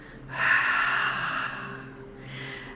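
A long forceful exhale during a breathing exercise with a root lock, a breathy whoosh that rises quickly, holds for about a second and tapers off, close and clear, followed by a softer breath with no talking.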